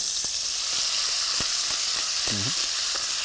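Beef pieces for boeuf bourguignon browning in a hot pot, a loud continuous sizzle with a few sharp knocks and a brief scrape, no talking.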